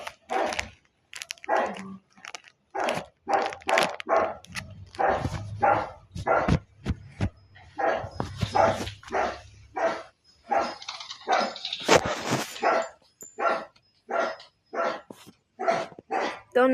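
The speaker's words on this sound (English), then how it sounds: "Don't mind my dog, guys." A pet dog barks and yips repeatedly in short bursts throughout, close and fairly loud, some barks overlapping faint background talk in a home.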